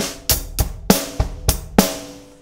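A drum groove of six evenly spaced hits, bass drum thumps mixed with crisp hi-hat and snare strokes, played alone at a steady moderate tempo.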